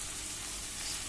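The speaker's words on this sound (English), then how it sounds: "I'm going to add salt to hasten the frying of the onion also." Onion frying with salt in a pan gives a steady, close sizzle with a soft hiss throughout.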